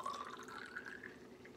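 Water poured out of a container for a home water test, a thin trickling stream with light dripping, faint and close, with no talking over it.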